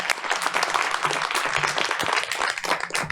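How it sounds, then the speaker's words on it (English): At a school board of education meeting, an audience gives a round of applause, a lively, fairly close burst of clapping with uneven bursts and no speech over it. "I would like a round of applause for Dr."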